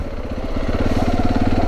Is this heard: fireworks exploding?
no